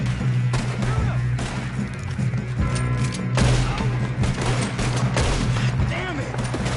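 Gunfire during a train robbery shootout in Red Dead Redemption 2, repeated sharp gunshots cracking in irregular volleys, close and loud beneath characters shouting and talking with a steady rumbling background.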